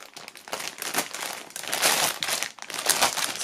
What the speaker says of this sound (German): wir werden es einfach mal aufschneiden hier,